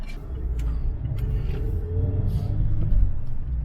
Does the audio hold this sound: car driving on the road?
yes